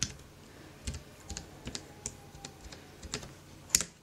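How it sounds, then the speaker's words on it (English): Clicky key presses on a mini USB keyboard as a password is entered, about a dozen close, sharp taps in an uneven rhythm with brief pauses and a louder final keystroke, no talking. "And I'll just enter in my password."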